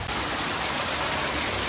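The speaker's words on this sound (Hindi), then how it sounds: "ऐसा ऊपर से पानी गिरता हुआ आ रहा है ना" Water pouring down from above at a resort, a steady, dense broadband rush that stays loud and unbroken throughout, with no voices.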